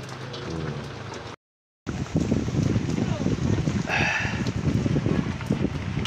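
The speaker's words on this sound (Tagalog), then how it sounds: "Maghapon na magulan to." Steady rain falls on an overcast day at a rural vegetable garden, a dense, close patter that runs throughout with a short break near the start, while someone talks over it.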